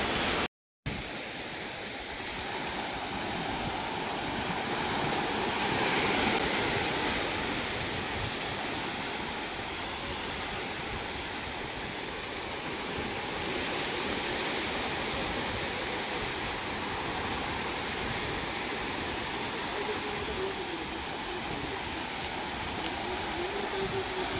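Steady broadband wash of sea waves on the beach at Devbag, a continuous rushing surf that swells gently now and then, with no voices over it.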